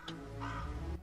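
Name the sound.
crow cawing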